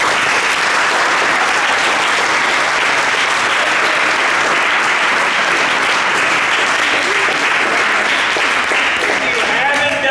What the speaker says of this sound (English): So let's give the parents a huge round of applause.